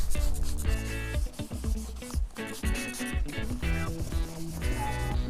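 Wet sanding of a car headlight lens with 800 grit sandpaper: continuous close rubbing and squeaking strokes with a steady back-and-forth rhythm, fairly loud, with no talking.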